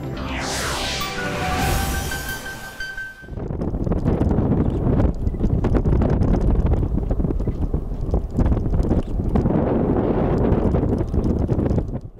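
Strong wind at Boguchany airport buffets the microphone with a loud, continuous roar and gusty rumble after a brief opening of other sound.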